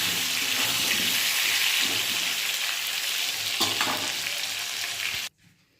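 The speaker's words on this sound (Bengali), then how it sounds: "আলুগুলো ভালো করে একটু লাল করে ভাজবো" Potatoes fry in hot oil with a dense, close sizzle and occasional stirring clinks, running steadily until the sound cuts off abruptly near the end; no one speaks.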